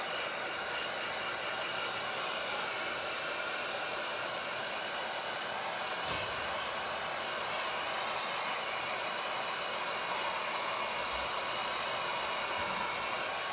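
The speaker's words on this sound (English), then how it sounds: "hopefully it'll dry quick too with this different hot air gun" A hot air heat gun blows steadily while drying a painted Dollar Tree birdhouse, a continuous loud whooshing hiss with no pauses and a brief low thump partway through.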